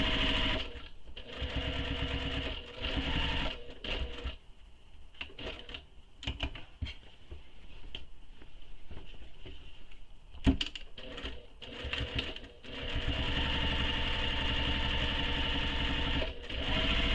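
Sewing machine stitching a pocket on a tote bag, running in steady close bursts that stop and start with short pauses and quieter handling gaps between, no talk.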